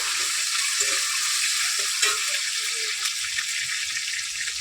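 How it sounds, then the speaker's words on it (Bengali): Pieces of chicken meat sizzle and crackle steadily in hot oil in a pan, a continuous close frying hiss with occasional stirring scrapes, no talking. "মাংসটা আগে তেলের মধ্যে ভালো করে ভেজে নেবো।"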